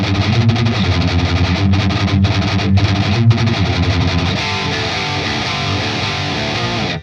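Heavily distorted electric guitar chugs through a rhythm riff. The playing is loud and dense, with steady driving palm-muted strums and brief choppy gaps early on, then a sustained wall of crunch.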